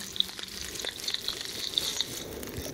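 Meat sizzles in a skillet in The Long Dark survival game, a quiet steady frying hiss with faint crackles and small pops for a few seconds.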